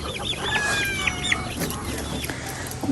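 Pet chickens clucking busily while being fed, a flurry of close, overlapping clucks and short squawks, with some faint background voice.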